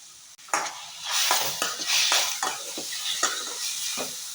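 Chopped tomato and green chili fry in a pan, a steady close sizzle broken by repeated scraping strokes of a spoon stirring against the metal, with a faint clink at the start and no talking.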